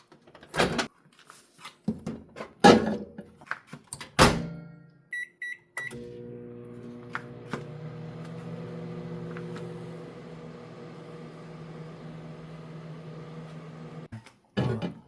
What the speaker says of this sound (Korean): 전자레인지에 10분 정도 돌려줄 거예요.